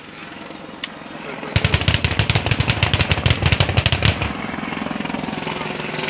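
A helicopter's 30mm gun fires a rapid burst of about two and a half seconds over a steady rotor and engine roar at an air show, loud and close, with the machine's drone continuing afterward.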